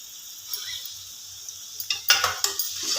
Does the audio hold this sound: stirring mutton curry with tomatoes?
yes